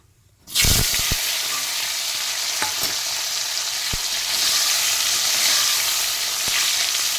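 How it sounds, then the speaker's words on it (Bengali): Tomatoes hit hot oil in a frying pan and burst into a loud, continuous sizzle, with a few sharp knocks from stirring scattered through the steady crackle. "কিছুক্ষণ নেড়ে চেড়ে ভেজে নেব"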